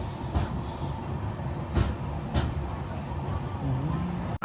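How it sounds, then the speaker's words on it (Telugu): The Mahbubnagar–Visakhapatnam superfast express stands alongside on a platform at Mahbubnagar, giving a steady low rumbling drone of rail noise with a few faint clanks and thumps and some muffled voices in the background. "మన పక్కన ఉన్న ట్రైన్ ఏదో తెలుసు కదా Mahabub Nagar Visakhapatnam super fast express train ఇది"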